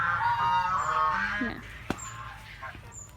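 Muscovy breeder ducks in a farm pen give a few hoarse, honking calls up close. A single sharp knock cuts in midway, and faint calls trail off afterward.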